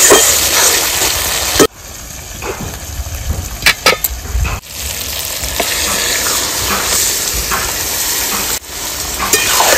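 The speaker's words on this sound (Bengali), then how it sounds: "এবার দিয়ে দেবো ম্যারিনেট করে রাখা মটনটা।" Marinated mutton hitting hot fried spice paste in a village kitchen pan, a loud, steady sizzle and hiss broken by sudden clanks and scrapes of stirring, with no talking.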